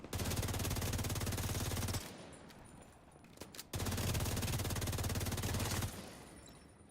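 Sustained automatic gunfire from an enemy engagement in Division 2, two loud continuous bursts of roughly two seconds each separated by a quieter gap with a few scattered shots, no talking.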